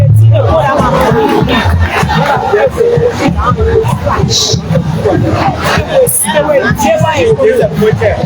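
Loud crowd noise at an International Women's Day celebration in Liberia as an NGO forum chairperson is introduced, a mix of shouting, whooping and cheering voices that stays dense and close throughout.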